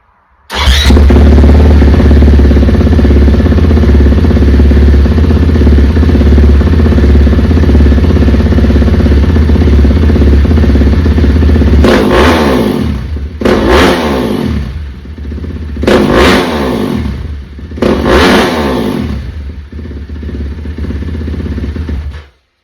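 A 450 snowbike engine with an RP race exhaust idles loudly, then revs in three sharp bursts before dropping back to a rough idle.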